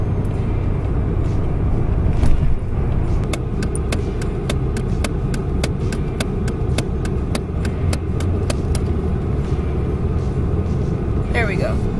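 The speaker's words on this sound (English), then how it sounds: "Car is running and I am driving on my way to campus" A car engine runs steadily while driving to campus, a constant low rumble of road and engine noise inside the cabin, with a rapid series of faint clicks partway through.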